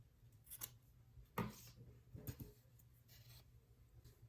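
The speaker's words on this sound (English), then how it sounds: "Now we can pull some yarn and cut it." Scissors snip through yarn during a crochet shoulder bag project, a few quiet, brief cuts spread over a few seconds with soft handling noise between them.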